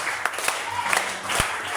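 Church congregation in Cameroon applauding Jesus, a brief burst of steady crowd clapping with a few sharper individual claps.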